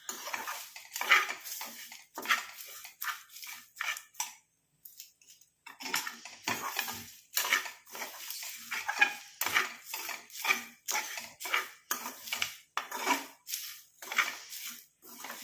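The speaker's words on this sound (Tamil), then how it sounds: "இந்த 3ஐயுமே நல்லா வந்து நம்ம ஃப்ரை பண்ணிக்கலாம்." Black cumin seeds and two other ingredients stirred and fried in a pan for a homemade hair dye, with a utensil scraping and clinking against the pan in steady repeated strokes and a brief pause partway through, no voices.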